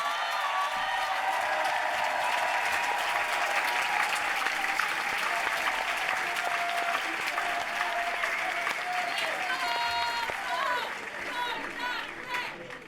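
Steady applause fills the room at a political discussion meeting, with voices and some cheering mixed in, lasting throughout and easing slightly near the end.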